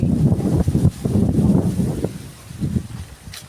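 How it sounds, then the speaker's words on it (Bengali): Strong wind gusting and buffeting the microphone in loud, uneven rumbling bursts, easing toward the end, with no voices. "দেখেন কীরকম বাতাস দেখা না এইরকম বাতাস উঠছে"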